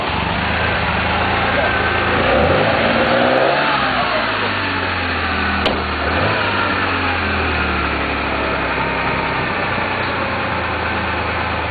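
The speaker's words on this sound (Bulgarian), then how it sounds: "Дай да избучи двигателя." A car engine being revved in a classic car garage, a loud, continuous engine roar with a rising and falling rev early on, then a steadier idle-like drone with people talking over it.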